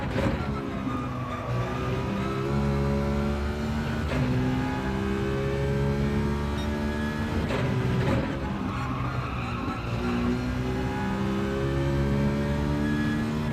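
A Citroen race car in Gran Turismo 7 on Sardegna Road Track B drones steadily, its engine holding a sustained harmonic tone with small shifts in pitch and occasional sharp transients, loud and continuous throughout.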